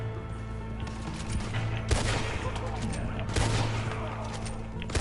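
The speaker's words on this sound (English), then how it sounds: "This rifle actually kind of shoots good." Rifle shots crack in Red Dead Redemption 2 Online amid a dense wash of game noise, with a couple of louder reports standing out and a voice talking over the action.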